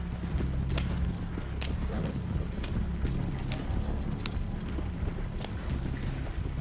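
Repeated clip-clop of horse hooves in a game, evenly spaced hoof strikes continuing throughout at moderate volume over a low droning background.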